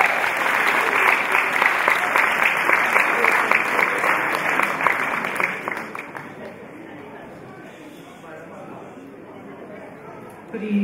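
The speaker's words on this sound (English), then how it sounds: "Clap your hands and receive it." A congregation at a home-going funeral service claps loudly and steadily for about six seconds. The applause then fades into a low murmur of chatter and room noise.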